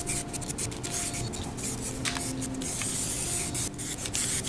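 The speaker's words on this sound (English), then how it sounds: "Finally, we can start painting." Aerosol spray paint hisses in short bursts and longer sustained passes as a rear axle is coated matte black, close and steady with brief pauses between strokes.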